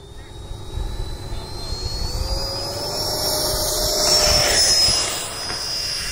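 An F-4 Phantom model jet takes off at a field, its turbine whine steady and fairly loud, swelling as it passes nearer and then easing slightly as it climbs away over a broad roar.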